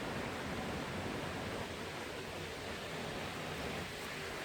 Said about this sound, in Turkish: Kayanın bak altından arkadaşlar su çıkıyor.